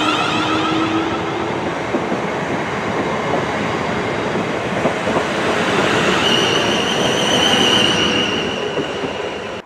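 A South Western Railway train rolls through Brockenhurst station, with a steady loud rumble of wheels on rails, rhythmic clatter and a thin squeal rising in the second half, no speech.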